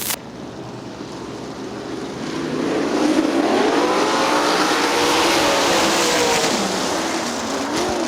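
Sprint cars race at Winston Motor Speedway, a loud sustained engine roar that swells and pans as the pack passes, with rising and falling pitch and no talk.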